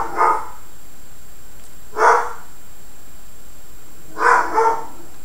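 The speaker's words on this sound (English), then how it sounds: "If somebody stays outside for too long, she feels immediately and she starts barking." A young puppy barks at the door indoors: three separate sharp barks spaced about two seconds apart, the last a quick double, loud and close against a quiet room.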